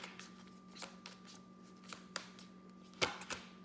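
Tarot cards shuffled in a quiet room, giving a handful of soft, scattered riffles and taps with one sharper flurry near the end, with a low steady hum underneath.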